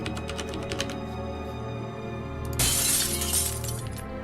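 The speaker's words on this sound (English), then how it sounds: "What was the glass breaking sound?" Glass shatters loudly in the video game Ib, a sudden bright crash that leaves a fading tinkle, after a stretch of game music with light tapping.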